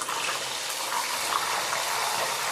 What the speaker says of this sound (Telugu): ఇందులో కొంచెం సాల్ట్ వాటర్ పోసానండి